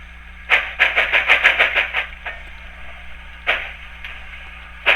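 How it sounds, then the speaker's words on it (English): Tsunami2 sound decoder on a model locomotive producing a wheel slip effect: a rapid run of about eight loud chuffing bursts as the drivers break loose, then quieter exhaust puffs as the throttle eases back. "you can kind of hear how the locomotive has broken loose, and then you hear the throttle back off"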